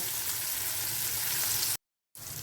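Eight dried red chillies frying in hot oil for a katla fish curry give a steady, close, dense sizzle, cut off briefly by a short silence near the end before resuming.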